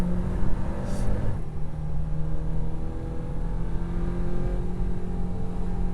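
A turbocharged 2023 VW Golf R engine drones loudly and steadily at high revs on a race track, a brief whoosh near the start, the tone holding level with a faint rising whine.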